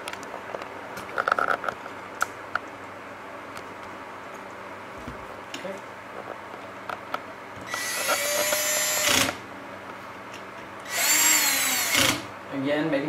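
Cordless power driver running screws into a Chauvet Q-Spot 260 LED fixture, two short whirring bursts near the end after a stretch of quiet handling clicks and taps, close and loud.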